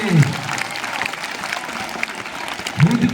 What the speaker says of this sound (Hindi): तो जोर से ताली बजाओ अपने लिए।